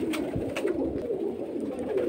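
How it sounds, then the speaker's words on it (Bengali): Pigeons, including high-flying Khaki, Silver and Giribaz breeds kept in large numbers at a home loft, coo softly and repeatedly in low, rolling calls, close by and without talk. "কবুতর এখনও কম বেশি অনেক আছে।"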